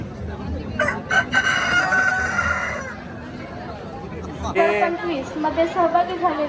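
A rooster crows loudly nearby while chickens cluck around it at the Baramati agricultural exhibition, with people talking over the birds.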